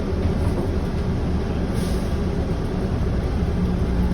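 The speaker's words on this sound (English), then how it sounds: "Welcome aboard the plane train. Please hold on. This train is departing." An airport people mover train rumbles steadily from inside as it departs, a loud continuous roar of wheels and motor with a brief hiss partway through, no voices.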